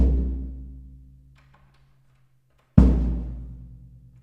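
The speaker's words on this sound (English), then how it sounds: "the floor tom never sounds good when I have it without the resonant head" Two strikes on a floor tom with its resonant head removed, each a boomy, dull thud like a bouncing basketball that decays slowly, separated by a quiet gap.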